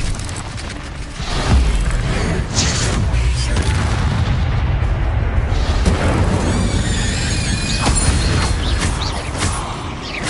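Incendio fire spell in Hogwarts Legacy, loud roaring whooshes and booming bursts amid continuous spell-combat noise, sustained and dense throughout.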